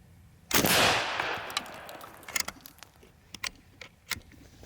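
A Seneca Recluse .357 big-bore PCP air rifle fires one sharp, loud shot, followed by quieter clicks and clanks of cycling the action.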